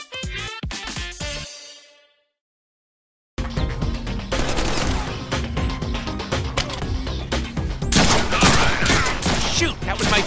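Gunfire in the Deadpool video game, a dense, loud barrage of rapid shots and explosions that runs on after a short burst and a brief silence, with mixed game sounds and voices underneath.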